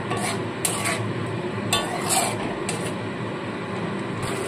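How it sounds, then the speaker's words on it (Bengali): Spice masala and potatoes are stir-fried in a pan, with a steady sizzle and repeated scraping clinks of a spatula against the metal close by. No voices. "বেশ খানিকক্ষণ একটু কষিয়ে নেব।"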